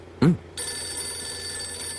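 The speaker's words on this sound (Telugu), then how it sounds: "ఇప్పుడు నీకు ఫోన్ వస్తుంది చూడు" After a brief thump, a phone starts ringing with a steady, bright electronic tone that continues to the end.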